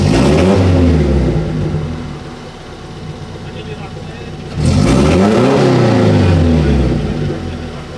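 A Daihatsu Zebra Turbo engine revs hard on a dyno, the pitch climbing loudly, easing off, then surging again in a second rising rev. Voices can be heard around the loud engine.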